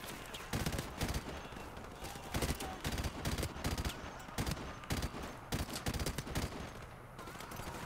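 Rapid gunfire from the Call of Duty Modern Warfare Remastered video game, with dense bursts and sustained automatic volleys repeating steadily throughout, loud and close, with no talk over it.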